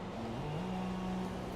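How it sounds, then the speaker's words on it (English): A race car from a racing video game rolls into the pit lane with a steady, droning engine note that dips and settles in pitch, heard alone and at moderate, even loudness. "So driving into the pit lane to finish off the season."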